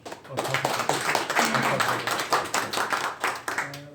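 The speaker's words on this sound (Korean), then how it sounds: "박수를 한번 좀" Audience at an event clapping in a brisk, uneven burst, moderately loud and close, with a few voices murmuring underneath.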